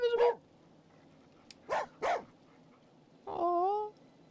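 A dog in the game Skyrim gives a few short barks and yips with a rising whine at the end, spaced apart over a quiet background, with no talking.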